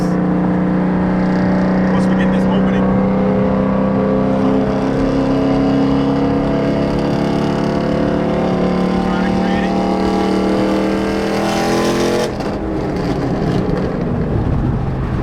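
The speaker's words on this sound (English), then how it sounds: "Let's do some clips of what this car sounds like. 3rd gear, and I'm gonna give it a little gas" Straight-piped 2014 Ford Mustang 5.0 V8 revving in third gear, a loud steady exhaust drone building throughout and dropping off near the end, with someone talking over it.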